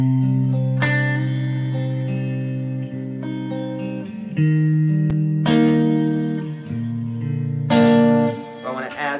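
An electric guitar played through a modeler with reverb rings out in sustained, distorted chords that change every few seconds, each strike trailing into a wash of echo.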